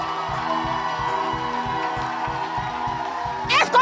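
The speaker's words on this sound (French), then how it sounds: "Merci pour les acclamations." An audience at a church gathering cheers and acclaims over a steady rhythmic beat, with a louder burst of shouting at the very end.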